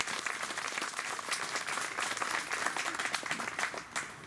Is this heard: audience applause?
yes